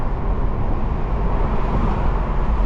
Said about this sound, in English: I feel like the wind noise is quite a lot